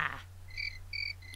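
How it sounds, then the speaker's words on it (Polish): High, thin cricket chirps in the Scooby-Doo video game, two or three short repeated trills over a steady low hum, faint and alone. "No i znowu świerszcze, świetnie."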